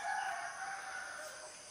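A wild rooster crows once in the distance in the mountains, a faint drawn-out call over steady outdoor background noise.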